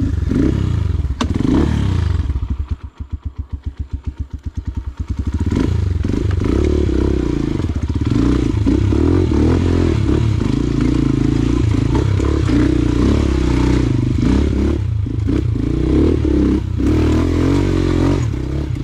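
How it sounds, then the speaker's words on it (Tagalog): Motorcycle climbing a rough, potholed mountain road between Atimonan and San Jose Balatok, its engine droning and straining steadily for the full stretch, near and loud, with clattering and scraping over the bumps and a brief choppy lull early on. "Pagod na motor."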